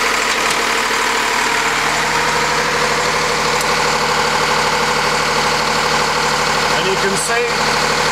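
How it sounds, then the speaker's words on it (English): An asynchronous generator's motor runs with a steady, loud mechanical hum and whir throughout while someone talks over it. "the motor whizzing round"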